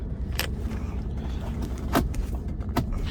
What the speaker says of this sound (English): Now we're going to take it for a little drive.